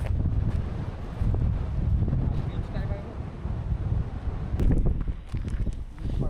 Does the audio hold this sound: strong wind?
yes